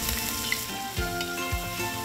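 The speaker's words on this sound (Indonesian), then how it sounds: "Sekarang, aku mau tumis bumbunya lebih dulu." Spice paste sizzles and fries in a pan, a constant crackling hiss broken by a few soft stirring scrapes, close and with no talk.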